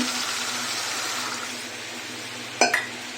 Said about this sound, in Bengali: এখন আমি যতটুকু ঝোল দিব ততটুকু পানি দিয়ে দিব